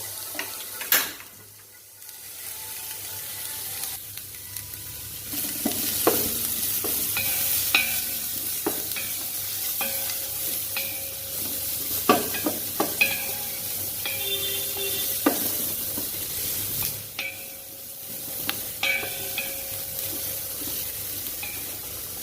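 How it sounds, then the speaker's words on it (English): Spices sauteing over a low flame for a chilli-free white kurma, a steady soft sizzle with frequent light stirring scrapes and clinks running throughout, close and moderately loud, with no talking. "as always, we saute it on low flame"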